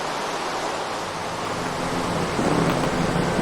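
Steady Minecraft rain hisses without pause under a low, rolling thunder rumble that swells toward the end, with no voices.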